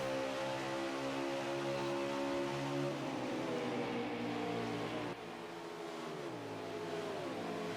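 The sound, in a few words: dirt track race car engines revving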